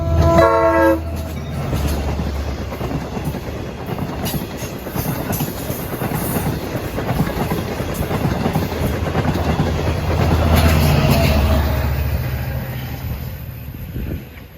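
A Long Island Rail Road train led by DE30AC locomotive 416 opens with a short blast of its K5LA horn. A long, loud roar of wheels and rumbling cars follows as it passes close by on the Montauk Branch.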